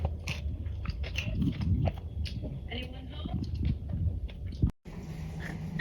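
Someone eats a home meal with tomato and onion, close biting and chewing with crunchy bites scattered through, a low murmur of background sound underneath and a brief cut near the end.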